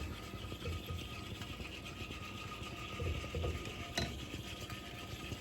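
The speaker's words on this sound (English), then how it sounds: "this is also a good time to use a whisk, or if you have a gravy whisk like this, this works nicely too" Cream gravy being whisked in a pan with a gravy whisk, a faint continuous scraping and rapid rhythmic patter, steady throughout with one small clink near the end.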